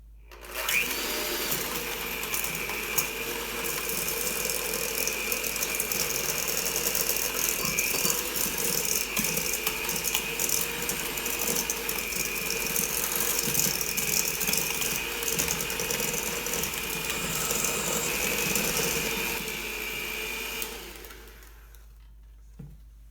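An electric mixer creams dough for raspberry thumbprint cookies, giving a steady, loud mechanical whir with a rattling gear texture that runs unbroken for about twenty seconds before stopping.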